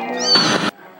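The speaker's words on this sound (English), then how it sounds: "What a good mama cat!" A cat meows once in the video game Amanda the Adventurer 2, a loud, close, drawn-out cry that cuts off sharply.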